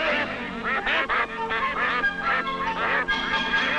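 A flock of ducks at a farm in 1960s Hong Kong, eating a meal, honks and quacks loudly and close in overlapping, continuous calls.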